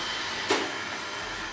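The Dreame D9 Max Gen 2 robot vacuum cleaner runs with a steady, fairly quiet motor hum, and a single short bump stands out midway.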